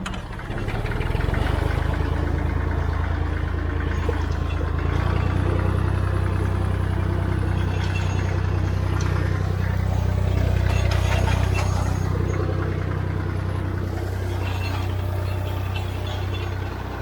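Tractor engine running steadily while pulling a Vermeer TR90 hay rake through big windrows of leafy hay in a field, a continuous low droning hum throughout, close and fairly loud with no talking.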